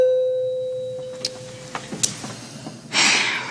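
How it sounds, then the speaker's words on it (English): A doorbell with a jammed button buzzes as one long, steady, held tone for well over a second before cutting off. A few scattered clicks and knocks follow, then a short burst of noise. "his cute little old pleasingly plump finger always kind of jams the doorbell button"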